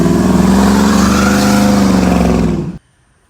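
An 86 Cutlass with a 6.0 LS engine held at high revs during a stall test, a loud sustained droning roar that wavers slightly, then cuts off abruptly to near silence.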